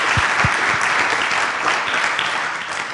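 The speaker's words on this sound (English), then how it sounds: "I think that deserves a big round of applause" A lecture audience gives a sustained round of applause at a talk on learning disabilities and ADHD, dense and even clapping throughout, with a few low thumps near the start.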